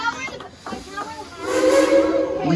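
A steam train vents a rising hiss with a whistle-like tone building through the second half, while people talk over it.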